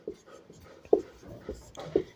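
Chalk or marker scratching out maths notation on a board in a classroom, producing short scraping strokes with a few sharper taps at an irregular rhythm, moderately close.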